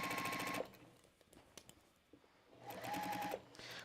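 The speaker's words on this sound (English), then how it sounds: "I'm going to edge stitch all the way around the top of the bag" A Juki sewing machine edge stitches fabric along the top of a scrap-fabric bag, two steady mechanical whirring runs with a quiet pause and faint handling between, close but soft.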